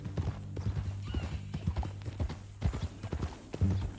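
Horse hooves clip-clop steadily at a walking pace in Red Dead Redemption 2, a close, even rhythm of hoof strikes on the ground with a low background hum and no talk over it.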